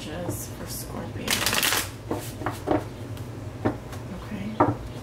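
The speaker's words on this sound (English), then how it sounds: "Sometimes the cards don't want to shuffle." Tarot cards being shuffled by hand: a close, crisp riffling burst and several shorter flutters, with a person speaking over them.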